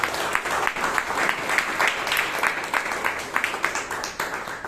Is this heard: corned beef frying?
no